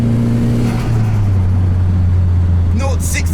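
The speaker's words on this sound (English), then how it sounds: "when that turbo kicks in, it's bloody strong and it just takes off" A turbocharged Suzuki Vitara accelerates hard with a steady, loud engine drone that climbs slightly in pitch as the turbo builds, while a voice talks over it throughout.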